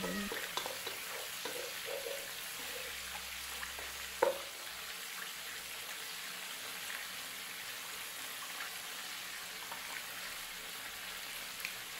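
Chicken kabsa rice is stirred in a frying pan, a soft continuous sizzle with faint scraping and one brief clack, quiet and close with no speech.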